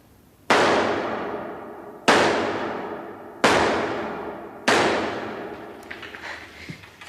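Four sharp pistol shots ring out in a 1990 wartime thriller, spaced roughly a second and a half apart, each loud and close with a ringing echo that fades before the next.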